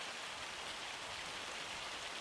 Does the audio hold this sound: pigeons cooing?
no